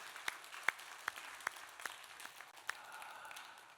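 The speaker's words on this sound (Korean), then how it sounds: "하나님께 감사하며 영광의 박수 한번 올려 드리겠습니다." Church congregation at a Sunday service clapping sparsely in a large room, a few sharp individual claps standing out over soft, distant applause that fades toward the end.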